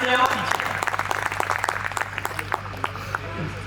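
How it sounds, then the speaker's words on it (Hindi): Audience applause at a Hindi kavi sammelan poetry gathering in Hastinapur, a burst of scattered clapping that thins out, with a voice speaking over the start and background voices continuing. "एक बार जोरदार तालियां बजा करके मुझे आशीर्वाद दीजिए"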